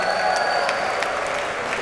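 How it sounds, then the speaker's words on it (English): A crowd gathered for a Champions League final screening claps steadily, a dense wash of applause with a few louder claps and voices mixed in. "give yourself a massive round of applause"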